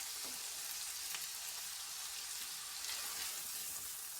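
Diced onions sizzle in a pan with corned beef for a healthier corned beef hash, a steady bright frying hiss that runs the whole time with no voices.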